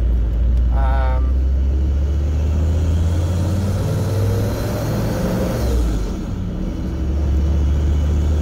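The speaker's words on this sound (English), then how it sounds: "I'm going to do an acceleration. 1 through to the 4th gear, up to 100 kilometres an hour." A turbocharged vehicle with an upgraded 4-inch turbo and new airbox tows a caravan at about 6.4 tonnes, accelerating through the gears as a loud, steady engine rumble builds, heard from inside the cab with the window down, with brief talking.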